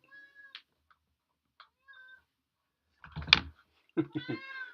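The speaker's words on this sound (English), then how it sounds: "He wants his meow to be heard, and it is." A cat meows several times, close and loud, with short pauses between calls; a few quiet clicks come in between.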